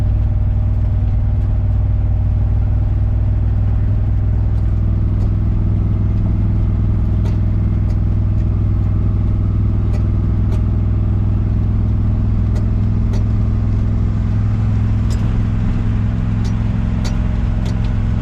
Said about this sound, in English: We'll let the engine wrap fast, but we'll just keep it in second.